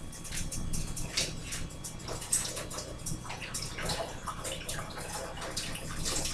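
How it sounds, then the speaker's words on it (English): Water is poured and drained off soaked, softened food in a home kitchen, making a steady splashing, trickling patter with small drips that runs for several seconds at moderate, close range. "I'm gonna pull the water off from them."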